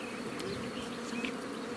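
Honeybees buzzing steadily at a Moldovan apiary, a dense continuous drone close by with individual bees passing near, no talking.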